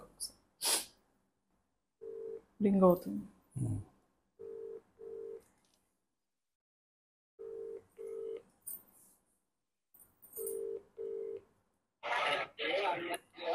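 A telephone call rings through, with evenly spaced pairs of short electronic ring tones separated by silence and brief voice sounds at the start and end.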